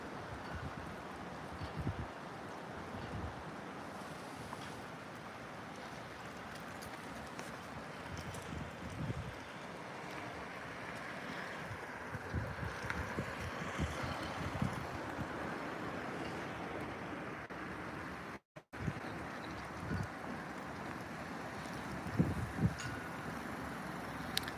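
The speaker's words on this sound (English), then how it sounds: "You can hear the wind in that tower." Steady wind blowing across an exposed hilltop beside a tower at night, a continuous broadband rush with gusty swells and brief rattles, loud and close with no talking.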